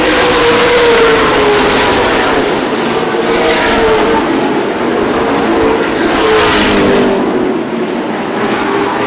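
CRA Late Model Sportsman stock cars roar past continuously at Winchester Speedway, engines droning and rising in pitch as the lead pack speeds by, loud and sustained throughout.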